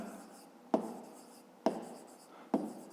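A pen writes a maths answer on paper in three short, crisp strokes about a second apart, each stroke followed by a soft scratching tail, close and quiet, with no voices.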